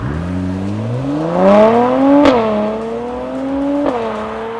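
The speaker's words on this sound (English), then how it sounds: "the combination of the V6 in this C43 AMG and the AMG Performance Exhaust creates a lovely aggressive growl" A Mercedes C43 AMG V6 with AMG Performance Exhaust revs up with a deep, aggressive exhaust growl, rising in pitch, with sharp pops and crackles between pulls; close and loud.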